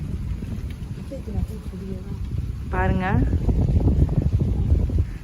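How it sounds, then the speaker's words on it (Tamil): Strong wind gusts during heavy rain make a low, buffeting rumble that swells louder partway through. Someone speaks briefly, and a short tonal chirp appears midway. "பாருங்கள் காற்றும் செம்மையாக அடிக்குது."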